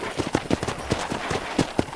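Horse hooves clip-clop in Red Dead Redemption 2, a quick, even rhythm of close, crisp hoofbeats heard alone.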